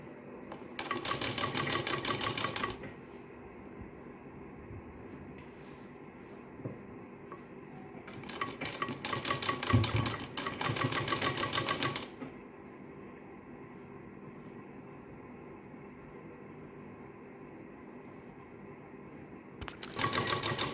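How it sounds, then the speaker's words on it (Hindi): Sewing machine stitching a pocket into a straight salwar, running in several bursts of steady rapid stitching separated by quieter pauses, close and fairly faint. "यहाँ से सिलाई लगानी शुरू करेंगे और बिल्कुल यहाँ से टाके को पक्का ज़रूर कीजिए"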